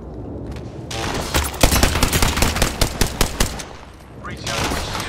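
Automatic gunfire in the shooter game Apex Legends, a loud close burst of rapid evenly spaced shots lasting a couple of seconds, with quieter firing before and after.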